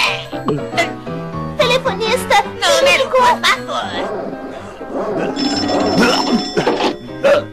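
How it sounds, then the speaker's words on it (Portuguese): An old-fashioned telephone bell rings in a Betty Boop cartoon, repeated jangling bursts mixed with orchestral music and voices speaking over it. "eu tenho que ligar para o Sam"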